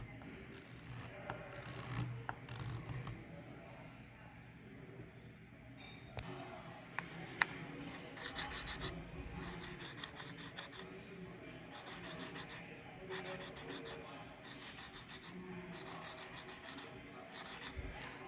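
Steady rasping strokes of 320 grit sandpaper rubbing a wood veneer surface on a copper pipe ring, close and fairly quiet, continuing in rhythmic back-and-forth bursts throughout.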